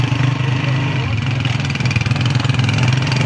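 A motorcycle engine hums steadily while riding on a cold night, a loud low drone with slight pulsing and wind noise close to the rider.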